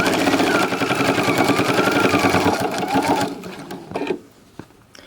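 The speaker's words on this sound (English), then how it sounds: "sew this all the way down to 1 inch before the end of" A sewing machine stitches a quilt flange seam in a fast, even, rapid chatter for about four seconds, then slows and stops, leaving a couple of soft clicks.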